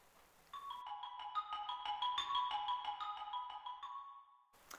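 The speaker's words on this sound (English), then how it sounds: "It's a 10-note pattern, which is actually two groups of five, but it's played twice." A ten-note musical pattern in two groups of five, played twice: bright, evenly spaced tonal notes ring out in a steady sequence, clear and fairly quiet, with no talking.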